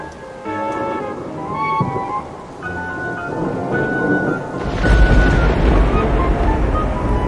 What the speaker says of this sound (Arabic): يدوي الرعد عاليا حتى وقت متاخر من الليل